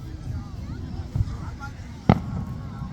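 Fourth of July fireworks outdoors, with a couple of distinct booming bursts, one sharp and loud near the two-second mark, over a steady background of crowd babble and distant chatter.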